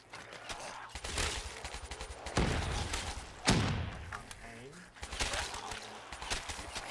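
AK rifle gunfire in Black Ops 3 zombies on the Verruckt map, rapid bursts of automatic shots and thuds in several clusters, fairly close, amid game sounds.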